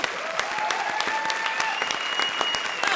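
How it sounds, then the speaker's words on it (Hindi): Comedy show studio audience claps loudly and steadily, with crisp individual hand claps standing out in the dense applause and a faint sustained tone running underneath. "जोरदार ताली बजाइए"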